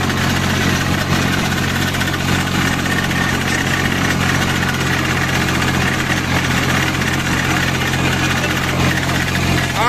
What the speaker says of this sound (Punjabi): ਦੇਖਦੇ ਹਾਂ ਪਲਾਵਾਂ ਦੇ ਸਵਰਾਜ ਟਰੈਕਟਰ